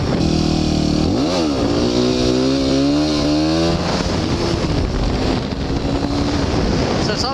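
Motorcycle engine revving hard as the rider pops the clutch and throttles on for a wheelie, pitch climbing and falling through the rev range under heavy wind noise.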